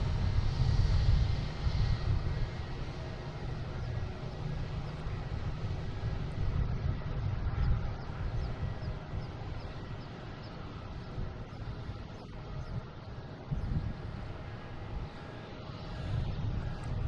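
An American Airlines Boeing 737-800, flight 475 arriving from Miami at Boston Logan, gives a steady, fairly distant low jet rumble that holds throughout with slight swells, no talk over it.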